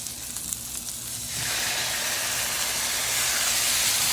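Cajun shrimp and sausage cook in a pan on low heat, a quiet sizzle that swells after a second into a loud, steady hiss that holds to the end.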